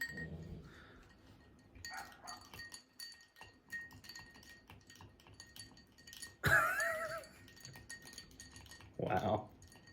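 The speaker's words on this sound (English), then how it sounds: "we got some neighbors' dogs just wanting to bark" Neighbors' dogs bark in short bursts at a distance, faint against glass and cutlery clinks nearby while people talk.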